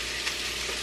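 Green pepper frying in very hot butter in a pan, a steady close broadband sizzle that holds evenly throughout without any talking.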